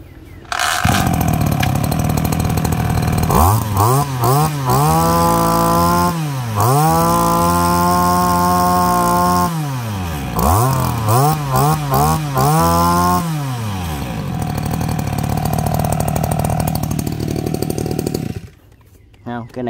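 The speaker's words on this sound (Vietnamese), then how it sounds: "Rồi giật lại cho anh em nghe tiếng bô nè." Used Japanese-market petrol two-stroke brush cutter, a branch-and-grass cutter, pulled to start and revved repeatedly, its engine rising and falling in loud buzzing bursts up close before settling to idle and stopping.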